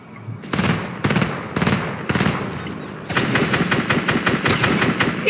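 Fortnite gunfire: several spaced single shots, then a rapid burst of automatic fire, loud and close, with no voices.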